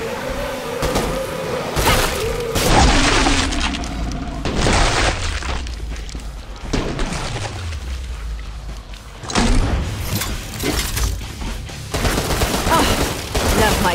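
Gunfire from the Killing Floor 2 video game in a Swat/Commando challenge, with dense bursts of shots and booming blasts running continuously over loud game action, plus occasional shouted voices.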